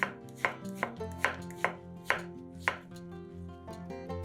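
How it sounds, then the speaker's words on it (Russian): A knife chops zucchini halves lengthwise into quarters on a cutting board, with seven or eight crisp, evenly spaced thuds over a low musical background, close and clear with no talking. "каждую половинку кабачка разрезаем еще раз вдоль пополам и нарезаем четвертинками"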